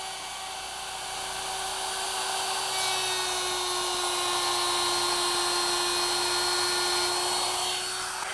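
A wood router cuts a widened groove in a workpiece, giving a loud, steady high-pitched whine with constant cutting noise that holds for about eight seconds, alone with no talk.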